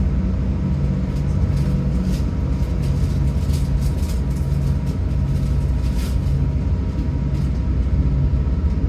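A Great Western Railway passenger train bound for Paignton rumbles steadily with a loud, continuous low drone and faint rattling, heard alone without talk.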